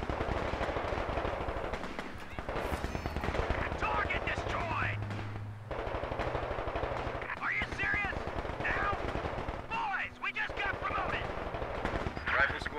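Battlefield gunfire in Company of Heroes 2 rattles continuously, dense machine-gun bursts and rifle shots layered under steady unit voice callouts and distant rumbling.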